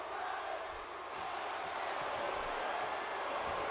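A crowd chants in a wrestling arena in the video game WWE 2K18, a dense, distant roar of voices held steady throughout at low level.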